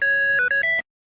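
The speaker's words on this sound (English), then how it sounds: "you can't really think Totally Spies gadgets and not immediately think of the compounder and its ringtone" A bright electronic ringtone from the Totally Spies compowder gadget plays a quick stepped melody of pure beeping tones for under a second, loud and clean, then cuts off into silence.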